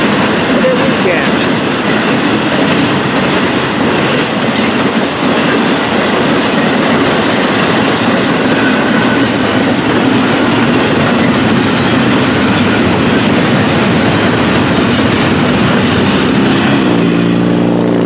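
A double-stack freight train, FEC 105, rumbles past close by heading south, a steady loud roar of wheels and rattling cars that continues without a break.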